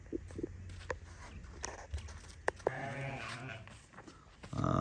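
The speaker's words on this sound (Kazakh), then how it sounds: "Екінші Афган қозы қошқор." Afghan-breed lambs and rams bleat at a livestock sale, a few short calls and one longer wavering bleat over shuffling hooves and faint background noise.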